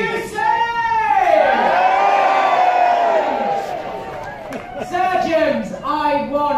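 Crowd of passengers cheering and whooping at an equator-crossing ceremony aboard the Queen Mary 2, a loud sustained roar with shouts swelling and fading, mixed with voices talking.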